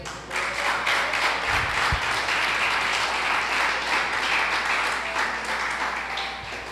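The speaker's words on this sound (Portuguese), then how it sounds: "Aplaude ao nosso Jesus." Church congregation applauding during an evening service, a sustained, even wash of clapping from many hands, with a couple of low thumps early on.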